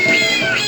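Cartoon cat meows from a cat pinball video game, a loud sustained whiny meow that fills the moment with no voice over it.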